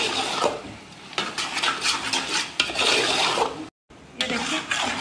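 A spoon scrapes and stirs thick carrot halwa in a pan, with repeated rasping strokes and metal clinks against the pan's bottom, briefly broken by a short silence.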